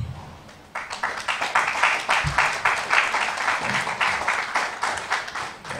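Audience applause at a customs training course closing ceremony, a steady burst of many hands clapping in a hall that builds quickly and holds at a moderate level, with no voices over it.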